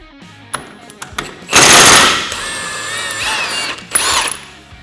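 A power tool whirs in a loud burst while removing a 30mm recessed nut on a Polaris RZR Turbo S during a trailing arm install, then a quieter mechanical whine follows with shorter whirs at the end.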